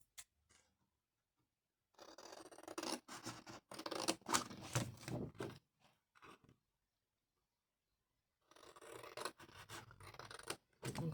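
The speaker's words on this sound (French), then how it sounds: "On va couper au ciseau." Scissors cutting through a cardboard tea box in short bursts of rasping, scraping snips, close and fairly quiet, separated by pauses of silence.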